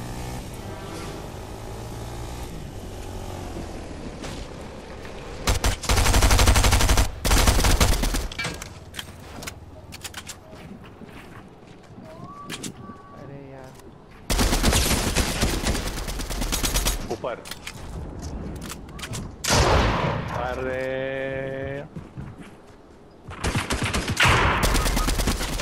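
Bursts of gunfire in a Fortnite duos match, loud clustered volleys separated by quieter stretches, with players talking over the action throughout.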